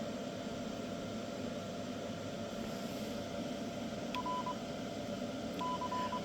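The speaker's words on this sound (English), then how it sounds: "when you push these buttons on the Kenwoods, that's Morse code" Short electronic Morse-style beeps from the front-panel buttons of a 1992 Kenwood TS-850S ham radio, two brief tones late in the clip over a steady hiss of radio static.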